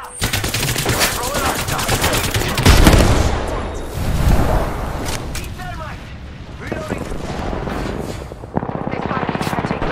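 Dense, continuous automatic gunfire in the video game Apex Legends, with rapid bursts, a heavy blast near the three-second mark and shifting weapon sounds, under game voice lines calling out combat.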